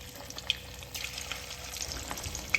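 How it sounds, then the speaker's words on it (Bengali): Small fish pakoras fry in hot oil, a steady close sizzle and bubbling with a few brief clinks of a utensil against the pan. "এভাবে আমি সব পকোড়াগুলো ভেজে নেব।"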